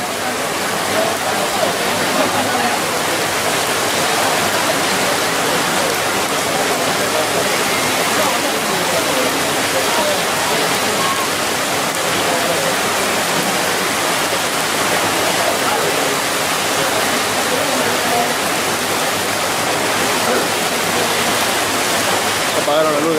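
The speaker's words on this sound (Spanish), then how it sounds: "Cada vez llueve más fuerte." Heavy rain pours down in a dense, unbroken roar throughout an outdoor patron saint festival in Yurimaguas, loud and steady, with voices faintly mixed underneath.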